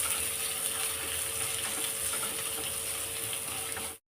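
Curry leaves and finely chopped onion sizzle in oil, a faint, even frying hiss with light crackling that runs steadily and then cuts off abruptly.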